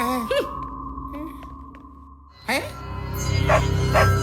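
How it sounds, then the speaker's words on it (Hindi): A cartoon dog gives a few sharp barks and yips, fairly close, with whining and voices around it and a rumbling noise building at the end. "ये बडी किस पर भौंक रहा है?"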